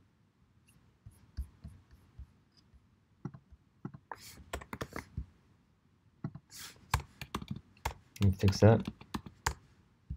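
Keys tapped on a computer keyboard in short, irregular bursts of crisp clicks, close and quiet at first and growing denser and louder toward the end, with a brief spoken remark.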